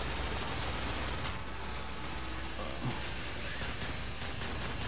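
Gunfire from the PlayStation 3 vehicular combat game Twisted Metal, a dense continuous fusillade of rapid shots over a constant hissing mechanical roar, steady and loud throughout with no speech.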